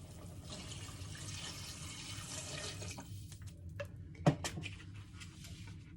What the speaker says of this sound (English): We're going to add the rest of the water.